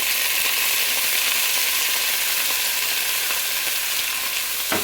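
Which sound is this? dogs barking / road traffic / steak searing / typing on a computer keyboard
steak searing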